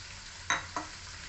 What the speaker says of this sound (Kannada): ಪೇಸ್ಟ್ ಸ್ವಲ್ಪ ಫ್ರೈ ಆದಮೇಲೆ ಆನಿಯನ್ ಹಾಕ್ತೀನಿ, ಹೆಚ್ಚಿಟ್ಟುಕೊಂಡಿರೋ ಆನಿಯನ್